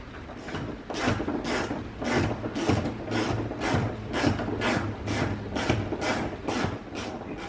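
A hand ratchet tightens a size 10 bolt up inside the front bumper of a 2011-2013 Hyundai Sonata Hybrid, its pawl clicking in a fast, even run of close strokes for several seconds.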